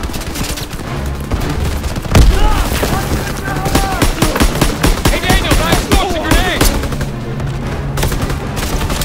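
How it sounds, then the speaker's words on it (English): A grenade blast and dense rifle and machine-gun fire fill a World War II battle in Call of Duty: WWII at the Rhine. The shots crackle in rapid bursts, a heavy boom lands early, and it all stays loud and continuous. "Throw the grenade!"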